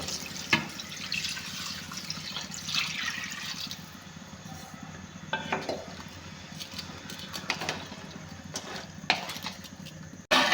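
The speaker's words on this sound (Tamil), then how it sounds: "இப்போ அந்த அளவுக்கு தேவையான அளவுக்கு தண்ணி ஊற்றிப்போம்" Water splashes and pours into a cooking pot for crab biryani in uneven bursts, with a few clinks and trickles, close and moderately loud, no voices.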